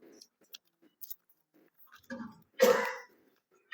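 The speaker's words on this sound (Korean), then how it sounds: "제가 기침을 해서 미안해요." A single cough bursts out loud and close, preceded by faint scattered small noises.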